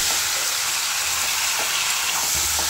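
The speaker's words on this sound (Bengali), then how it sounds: "মাংসগুলো আমি ভাজা বসালাম," Salted chicken pieces sizzle in a hot pan, a steady, close, dense crackle that holds evenly throughout with a few faint soft knocks beneath it.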